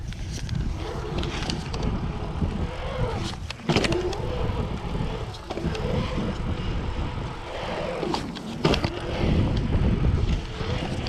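A 2021 Polygon TRID J5 bike rolls through a skatepark with smooth walls, giving a steady rumbling, whooshing ride noise with continuous wind roar and occasional louder bumps and clatters. Nobody speaks.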